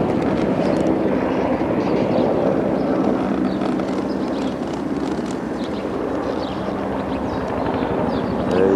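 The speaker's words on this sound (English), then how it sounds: "There's the helicopter." A helicopter drones on a cloudy day over Philadelphia at the Veterans Stadium implosion site, producing a continuous rumbling, fluttering rotor noise that stays steady and moderately loud throughout.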